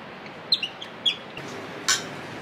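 Small bird chirps come in a few brief, faint calls spaced apart over a steady background hiss, with no voices.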